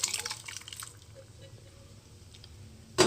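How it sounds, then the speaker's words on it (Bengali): Pre-boiled dal for dal makhani is poured into cooked masala in a pan, giving wet squishing and splashing at first, a quieter stretch, then a sharp wet splat at the end. "এই যে ডালটাকে এটার মধ্যে দিয়ে দেবো আগে থেকে সেদ্ধ করা ডালটাকে"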